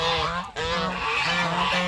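Close, loud honking from a small flock of geese on a rural property, steady harmonic calls overlapping almost without pause and briefly dipping once.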